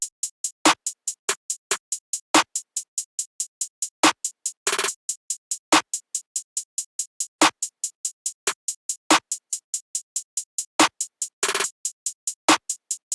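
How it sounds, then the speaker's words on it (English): Trap snare pattern with a quick roll, sharp snare hits falling in a steady bouncy rhythm over fast ticking hi-hats, with short dense bursts where the roll fills in, loud and close with no voices. "the finished snare pattern is sounding like this."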